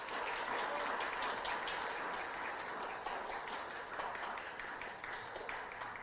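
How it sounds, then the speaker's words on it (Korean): Sustained crowd applause fills a youth and university student political rally hall in Busan and Gyeongnam, a dense steady wash of many hands clapping at even loudness throughout, with no distinct voices rising above it. "큰 박수 부탁드리겠습니다."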